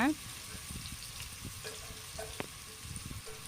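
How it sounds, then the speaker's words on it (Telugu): Finely chopped onions frying in hot oil for a tomato drumstick curry, a faint continuous sizzle with light clinks and stirring scrapes, quiet and close. "ఈ చిన్నగా సాఫ్ చేసుకున్న ఉల్లిపాయలు అనేది వేసి మంచి కలర్ వచ్చేదాకా కూడా ఫ్రై చేయాలన్నమాట"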